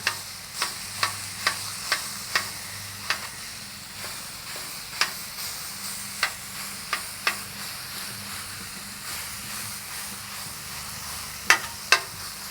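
Ground Wagyu beef sizzles steadily in a hot pan while a utensil breaks it apart, giving a series of sharp, irregularly spaced taps and scrapes against the pan over a soft, constant frying hiss.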